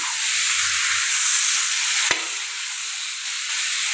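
Potatoes that were already fried are added to a pan of cooking meat, filling it with a steady, bright sizzle of hot oil and a single sharp clunk partway through, with no voices.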